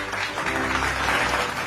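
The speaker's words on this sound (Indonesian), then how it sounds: "Beri tepuk tangan untuk peserta lomba kita pada pagi hari ini." Brief burst of clapping for sack race contestants at an Indonesian Independence Day competition in an animated story, a dense steady patter lasting under two seconds at fairly low level.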